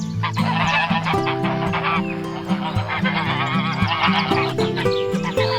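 Farmed geese honking in a flock, many overlapping loud nasal honks in quick irregular bursts, close and continuous with no talking.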